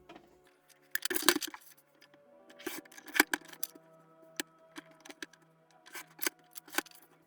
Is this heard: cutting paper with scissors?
yes